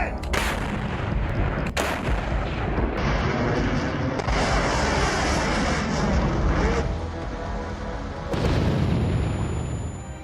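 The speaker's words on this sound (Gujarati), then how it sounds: "યુક્રેન પર દરરોજ વરસી રહ્યા છે બોમ્બ।" Repeated booming artillery fire and explosions in the Russia–Ukraine war, heavy blasts with dense rumbling bursts following one another and no talk.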